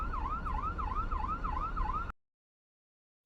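An ambulance siren wails in traffic with a steady, rapidly repeating rise-and-fall tone over a low road rumble for about two seconds, then cuts off into silence.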